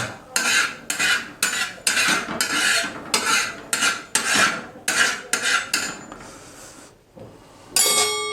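A utensil scrapes and clinks around a pan while spreading oil for Kolhapuri dhapate, making a quick series of bright metallic strokes at a steady rhythm, close and loud, with a brief pause before a final sizzle-like burst.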